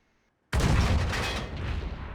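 A tank cannon fires in a tank video game, a single loud, close boom that erupts suddenly after brief silence and rolls into a long, heavy rumble.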